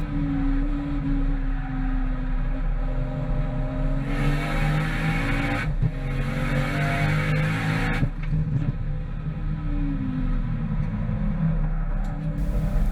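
Matt Gray's Street Class race car with a massive rear wing, at speed around Hampton Downs, its engine droning steadily and loud, with sharp gear-change bursts and revving swells along the way.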